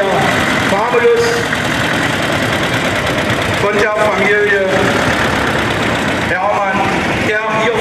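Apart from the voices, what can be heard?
two-cylinder tractor engine idling at parade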